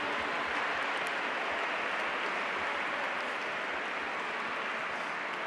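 Steady audience applause after a poetry reading by Felipe Benítez Reyes at the Biblioteca Valenciana, a soft, even wash of clapping from a crowd that holds constant throughout.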